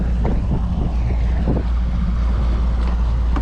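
A fishing boat idling on open water, a steady low engine rumble beneath wind noise and lapping water, with a few faint knocks early on and no talking.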